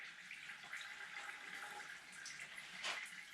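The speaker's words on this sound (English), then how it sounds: "Alright, I hear a lot of water on the floor." Water from the shot radiator of an IH 484 tractor running onto a floor, a steady soft splashing and trickling hiss with a brief louder gush near the end, faint and without speech.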